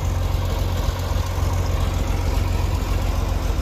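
A John Deere 5020 tractor engine runs steadily nearby, a loud, deep, continuous diesel rumble with a low throb and no break, running roughly enough to suggest something may be wrong.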